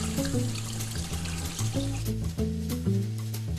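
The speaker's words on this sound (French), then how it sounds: "est-ce que tu veux bien mettre les raisins secs à tremper dans un bol d'eau froide?" Cold water poured into a bowl to soak raisins for an apple crumble: a steady, close splashing pour that runs throughout, with tonal music playing underneath.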